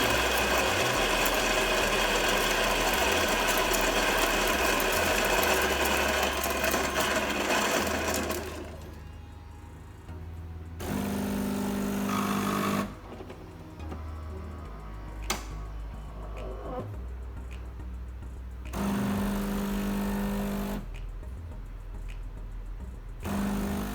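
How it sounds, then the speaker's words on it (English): A Gaggia Naviglio espresso machine brews a shot with a loud, continuous buzzing pump at first, then a quieter rhythmic ticking hum broken by softer intervals, with no talking. "Brew espresso by hitting the espresso button."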